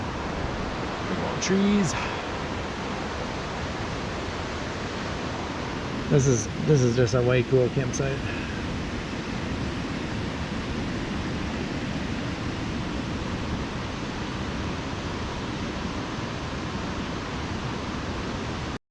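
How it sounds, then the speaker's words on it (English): The North Fork Skokomish River rushes loudly past a campsite among big old trees in Olympic National Park, a constant broadband roar filling the whole stretch, with someone speaking briefly over it twice. "Yeah, the river is so loud."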